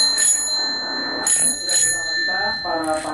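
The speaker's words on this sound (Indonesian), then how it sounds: "Selanjutnya, bunyi bel sepeda." A bicycle bell rings several times in quick bright bursts, its metallic tone lingering between strikes, close and clear.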